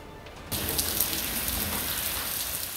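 Steady heavy rain pours down in Lahore, starting abruptly after a quiet moment and then continuing as a dense, even hiss of falling water.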